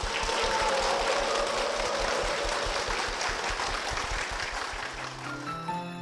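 A church congregation applauds, a broad, steady wash of clapping that fills the sanctuary, then thins toward the end as music begins to come in.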